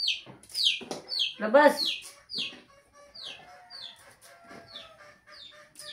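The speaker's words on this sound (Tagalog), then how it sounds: "Pumapasok tong manok na to." A chicken comes indoors clucking, giving repeated short, sharp descending clucks near the microphone, with a person's voice speaking briefly in between.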